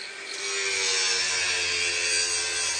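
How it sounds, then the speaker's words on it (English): An angle grinder works a welded steel shaft close by, a steady bright grinding whine that builds after a brief lead-in and holds at a loud, even level to the end. "So this welds onto the piece that Kev's grinding at the moment"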